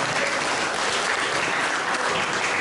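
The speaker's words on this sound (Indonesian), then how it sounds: "tepuk tangan sekali lagi untuk" Dense, steady applause from an audience at an Indonesian gathering, honouring a team of young teachers, fills the whole stretch loudly and evenly with no voices on top.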